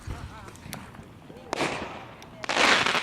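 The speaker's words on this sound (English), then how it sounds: "Move. Firework inbound." Fireworks are lit and go off outdoors, with fizzing bursts and crackling whooshes rising in two loud surges near the end, mixed with voices nearby.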